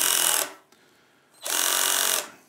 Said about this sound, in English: I'm going to use my drill driver to nip that up.